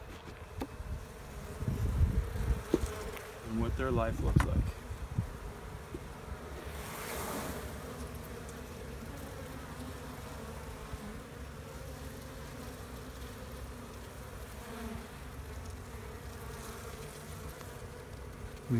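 Honey bees drone steadily around an opened hive frame, a soft, continuous buzzing that carries throughout, with a brief spoken phrase near the start and a few louder handling rustles early on.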